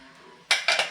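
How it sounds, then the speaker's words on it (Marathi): Metal clatter from a pressure cooker lid being opened after the pressure has been released, following three whistles while cooking potato curry; a quiet lead-in, then two or three sharp, close clanks. "तर उघडून बघूयात प्रेशर पण रिलीज झाले बघूयात"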